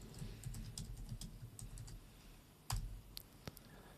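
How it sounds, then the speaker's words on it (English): A computer keyboard typed at a steady pace, with close, crisp key clicks in irregular runs and a few heavier thumps, likely the space or enter key, with no voices. "I will type in send me PO"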